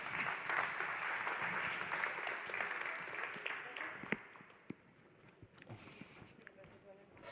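An audience claps for a startup pitch presenter at an Occitanie ecosystem event, a dense wash of applause that thins out over the final seconds into scattered claps and room noise.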